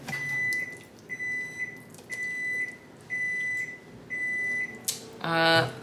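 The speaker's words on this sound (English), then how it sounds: "The microwave just dinged, and that means our pork is done" A microwave oven heating pork signals it is finished with a series of four evenly spaced high electronic beeps about a second apart, fairly clear against a quiet kitchen, followed by a brief louder clatter at the end.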